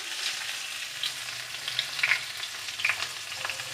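Ash gourd pieces sizzling in hot oil with turmeric over medium heat, a steady close fry with light crackles and occasional stirring scrapes, no voices.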